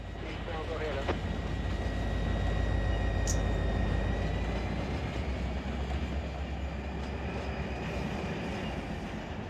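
An ATSF freight train in the Run 8 train simulator game rumbles steadily at low pitch, with a faint high squeal and a brief sharp click near the middle, continuous and fairly close.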